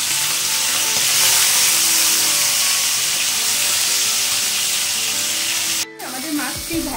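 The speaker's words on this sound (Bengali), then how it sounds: "এক সাইড হয়ে গেছে ভাজা। আমি মাছগুলোকে উল্টে নিচ্ছি।" Hilsa fish sizzle steadily in hot oil in a pan with a loud, continuous bright frying hiss, broken near the end by a brief clatter and a drop in level as the pieces are turned over.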